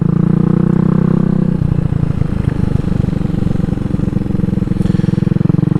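A Venom X18 GY6 150cc scooter runs loud and close, its engine holding a steady buzzing drone with a rhythmic chug that shifts slightly partway through, no voices over it.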